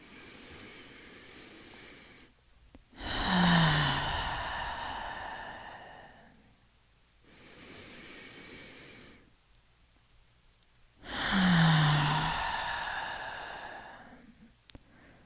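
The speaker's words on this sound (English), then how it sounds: "Taking another couple deep breaths here." Two slow, deep breaths, each a long audible inhale followed by a drawn-out exhale, close and alone in a quiet space.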